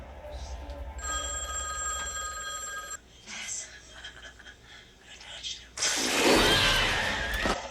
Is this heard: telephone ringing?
yes